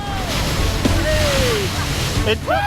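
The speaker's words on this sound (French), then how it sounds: "avec les grosses vagues qui arrivent, le naufrage reste une possibilité" Large ocean waves surge and crash in a continuous loud wash with wind buffeting the microphone, while whistling and voices cut through over the surf.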